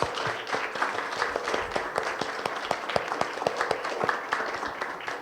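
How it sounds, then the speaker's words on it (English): An audience applauds the panelists at a Celebrate Hmong film event, a steady wash of many hands clapping with distinct sharp claps standing out throughout, moderately loud and without talk. "Can we get a round of applause for all the panelists?"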